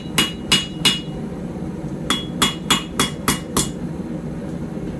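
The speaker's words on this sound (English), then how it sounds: "I'm being gentle and trying to make sure my hammer lands flat so as not to put any extra marks in it." A hammer strikes a puukko knife blade during forging, giving sharp metallic blows heard up close. Three quick strikes come first, then after a pause a steadier run of about six more, with no voices.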